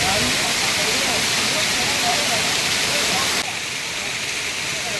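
The waterfall at Chinna Kutralam, a dense, steady roar of rushing water heard close by, which drops slightly in level partway through.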